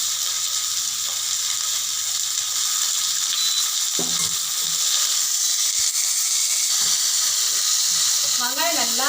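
Ground onion paste fries in a pan for a poori masala breakfast dish, a loud continuous sizzle with occasional scraping stir sounds, close and steady throughout.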